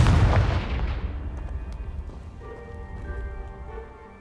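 A Confringo blasting spell explodes in Hogwarts Legacy, one loud booming blast that rumbles and crackles as debris rains down, then fades into a quieter ringing tone.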